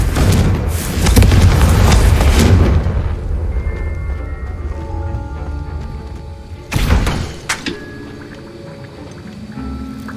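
Confringo blasting-spell explosion in the video game Hogwarts Legacy: a loud, deep boom with rumbling decay, followed after a pause by a second sharper burst and fading debris-like rattles.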